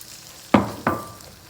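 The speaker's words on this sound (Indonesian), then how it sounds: "Dagingnya udah bisa kita masukin, apinya kecilin dulu supaya tidak ada yang gosong." Beef pieces dropped into rawon spice paste in a pan over a low flame give two quick loud sizzling bursts close by, settling into a quieter frying hiss.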